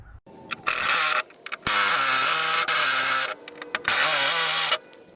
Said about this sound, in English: Grab your T25 bit and begin unscrewing this bolt,